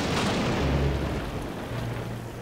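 Steady rain pours in a Thomas and Friends cartoon scene, a continuous broadband hiss with low rumbling underneath, fairly loud and uninterrupted throughout.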